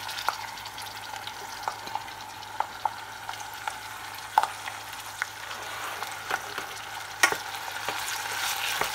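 Red onions cook slowly in generous butter, giving a soft continuous sizzle. A utensil stirs them with regular light scraping taps, close up and with no talking.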